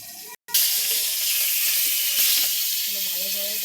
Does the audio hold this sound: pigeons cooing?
no